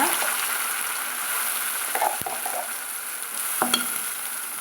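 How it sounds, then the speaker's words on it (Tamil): Ground masala sautéing in hot oil in a pan for a Tamil brinjal kuzhambu, a soft even sizzle with a few faint utensil clicks and one sharp tap, heard close without talk. "மசாலா வதக்கி விட்டுக்கலாங்க"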